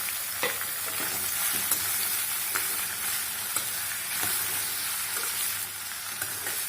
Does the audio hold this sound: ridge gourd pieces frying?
yes